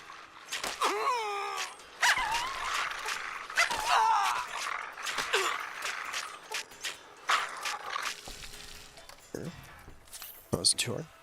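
Dogs bark and yelp in Fallout: New Vegas during a lightly modded playthrough, with sharp repeated barks and whining cries mixed with game sounds and thuds, while someone talks over them.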